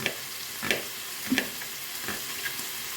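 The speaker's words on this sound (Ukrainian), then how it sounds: "сюди я викладаю м'ясо. І смажиться." Meat sizzles and crackles in a hot pan, a constant frying hiss with a few louder pops and stirring scrapes, close up.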